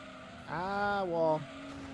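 Race cars in Gran Turismo 2 roar past in a brief surge of engine whine, a rising then falling harmonic sweep with a tire squeal near the end, set over a steady low drone.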